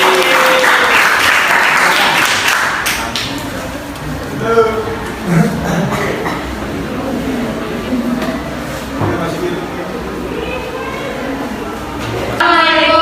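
Students clap together in a classroom at a Jakarta vocational school ahead of a group presentation. The clapping is loud at the start and fades quickly, then a voice speaks over quiet room noise.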